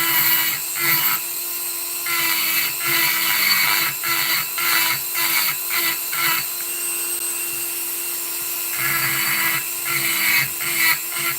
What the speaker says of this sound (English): So try not to hit this edge with the carbide cutter.